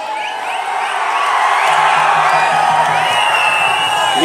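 A large crowd cheers and roars at a political rally in Pudukkottai, a dense, continuous swell of voices that grows louder and stays loud throughout, with some vocal shouts rising above it.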